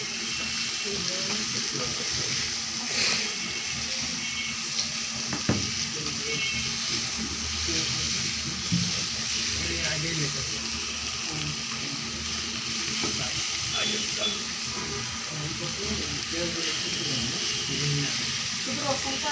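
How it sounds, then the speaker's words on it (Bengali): Garlic fries in a pan for a chicken filling with a constant, dense sizzle and crackle at moderate level, and a voice talks faintly underneath throughout. "রসুনটা একটু ভালো করে ভেজে নিলাম"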